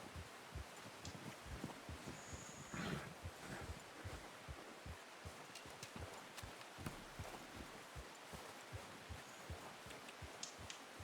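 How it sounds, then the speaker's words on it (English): Horse hooves clip-clop at a steady, slow walking rhythm in Red Dead Redemption 2, quiet and even, with light rustling and no talk. "Let's get on the horse."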